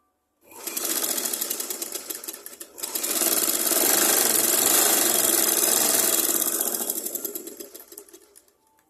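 An electric sewing machine stitches the bottom hem of a blouse in two loud, fast-running bursts, separated by a brief pause, with a steady mechanical whirr and no talk.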